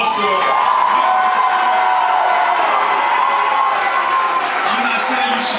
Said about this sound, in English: if we would just stand up and give our kids a round of applause